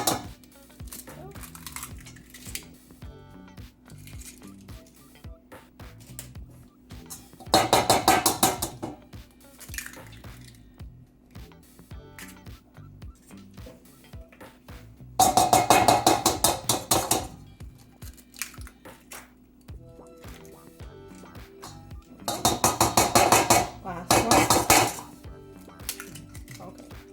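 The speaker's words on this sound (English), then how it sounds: "4 eggs. Crack them." Four eggs cracked for French toast batter: three distinct bursts of sharp clinking and tapping against a bowl, spaced several seconds apart, amid quiet kitchen clatter with no talk.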